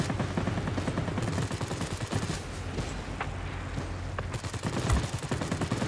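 Rear gunner's machine gun in World of Warplanes, defending a Curtiss P-23 fighter, rattles off a dense, continuous burst of rapid shots under steady engine drone, with a heavier thump near the end.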